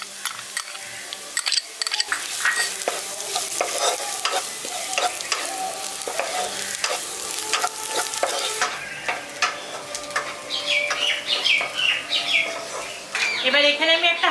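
Chopped ginger and garlic frying with onion in a pan for a village-style brinjal bharta, sizzling steadily with repeated spoon scrapes and stirring clatter, and some bird chirps in the background near the end.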